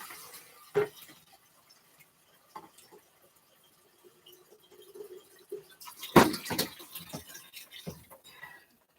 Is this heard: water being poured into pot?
yes